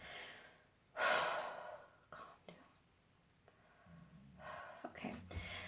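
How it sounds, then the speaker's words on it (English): One deep, audible breath is drawn in close to the microphone to calm down and then eases out, followed by quieter breaths and small mouth and body noises, with no words. "Take a deep breath."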